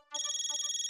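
Phone ringtone, a steady electronic warbling ring that starts abruptly and repeats rapidly, clear and alone in a quiet indoor sitcom scene.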